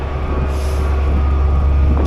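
A truck nearby idles with a heavy low rumble and lets out a hiss of air brakes, loud and close, the engine drone steady underneath.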